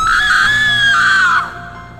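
A high, sustained scream of about a second and a half rings loudly through an old house and then cuts off into quiet room tone.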